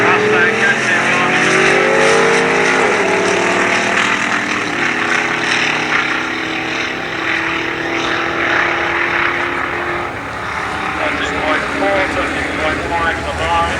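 Engines roar loudly as a Mustang launches down a 1986 UK drag strip at North Weald, racing a Pontiac, with rising harmonic tones sweeping through gear changes and an announcer talking over the sustained engine noise.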